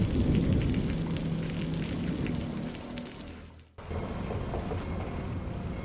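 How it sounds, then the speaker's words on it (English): Heavy rain hammers a roof as a horror-story effect, a dense, continuous patter over a low rumble, with a sudden brief break before the downpour resumes just as strongly. "Rain hammers the roof like fists."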